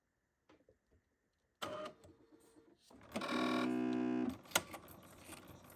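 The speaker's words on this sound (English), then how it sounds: "We're going to head over to the sewing machine and then sew down some straight lines" A sewing machine hums into a steady, fast mechanical whir for about a second while stitching straight lines, then stops, with clunks and handling noises before and after.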